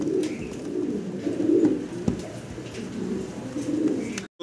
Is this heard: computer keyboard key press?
no